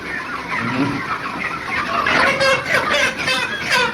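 Chickens cluck and squawk continuously while being caught by hand for an evening hunt, fairly loud and close, with agitated calls rising toward the end.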